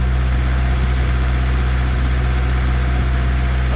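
A narrowboat engine runs hard at about 2000 RPM on a canal, a loud, steady low drone with constant vibration and no talking.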